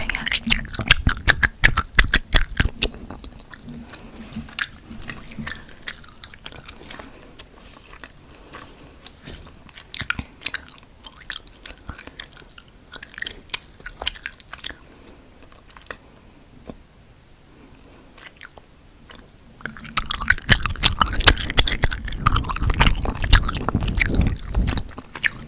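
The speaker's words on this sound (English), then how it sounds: "Really like viciously chewing it." Close, vigorous ASMR mouth sounds of something being chewed hard, with wet bites, crunches and scraping. The sounds come in dense bursts and thin out in the middle before returning loud and busy near the end.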